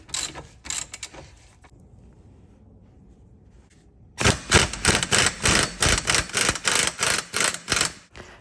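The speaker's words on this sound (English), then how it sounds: "I'm just torquing down all of the bolts and nuts to the required torque specs." Ratchet wrench torquing bolts and nuts on a Tesla Model S rear suspension, a few clicks, a quiet pause, then a steady run of about a dozen close, sharp ratcheting strokes.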